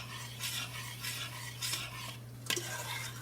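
A spoon gently stirring rice and beans in their creamy cooking liquid in a pot, soft rhythmic scraping swishes close by with a steady low hum underneath and one sharper clack near the end.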